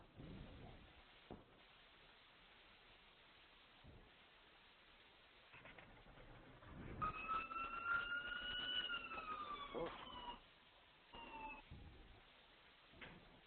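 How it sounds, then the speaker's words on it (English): Faint background hum gives way to wailing sirens that rise and fall for a few seconds, moderately distant, then fade. "We heard some sirens there."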